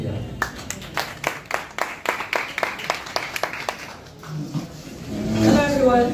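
An audience at a national youth university event claps in a series of distinct, evenly spaced strikes that fade out midway, followed by a voice speaking into a microphone.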